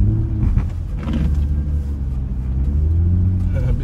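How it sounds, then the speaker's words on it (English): Infiniti G35 six-speed coupe sliding slowly on an ice pad, heard from inside as a loud, steady low engine drone and road rumble with slight swells in revs throughout. "Big slow-mo drift, man."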